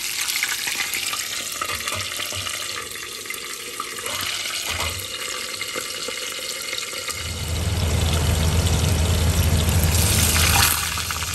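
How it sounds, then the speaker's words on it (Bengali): Fish fries in a covered pan, a dense hiss with water-like sputtering that grows heavier and louder in the second half, steady and close, with no voices. "মাছটা আমি সবসময় ঢেকে ঢেকেই ভাজি।"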